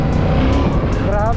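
A 2021 Yamaha MT-07 motorcycle accelerates hard in second gear, its engine note loud and close, rising in pitch toward the end; wind noise runs throughout.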